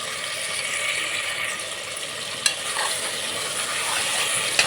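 Tomatoes sizzle and fry in hot oil in a pan while being stirred, with a steady crackling hiss throughout and a couple of sharp clinks from the spoon against the pan.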